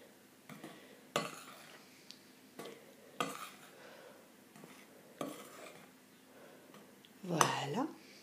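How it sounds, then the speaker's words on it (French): Dry ingredients, flour and baking powder, stirred in a bowl for Australian damper dough, with soft scraping strokes broken by several sharp utensil knocks and a louder clatter near the end, no talk. "nous tournons, nous mélangeons bien les produits secs"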